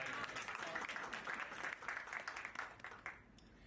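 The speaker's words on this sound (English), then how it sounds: "Can we please have another round of applause for you?" Round of applause from an audience of educators at a talk, a dense continuous patter of many hands that tapers off near the end, faint and distant.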